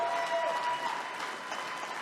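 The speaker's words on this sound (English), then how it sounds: "give him a big round of applause" Gala audience applause rolls on as a continuous wash of clapping, moderately distant and even, with faint voices mixed in.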